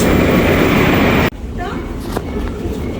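A Moscow metro train rumbles and roars loudly, then cuts off abruptly, leaving a quieter station ambience with scattered clatter and people talking.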